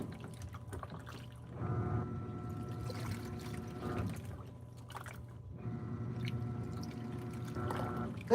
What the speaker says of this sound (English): Why is this damn thing still dripping?